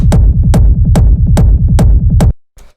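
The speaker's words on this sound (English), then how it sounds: "the first thing we got here is the rumble kick, which sounds like this." Hard trance rumble kick sample, six heavy booming thumps in a steady even pulse with a rolling low tail between hits, loud and alone, then a brief faint fragment after a short gap.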